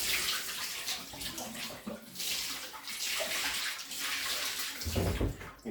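Dirty water from cleaning aquarium gravel pours and splashes out in a steady, close, continuous gush that surges and rumbles, with a heavier slosh near the end.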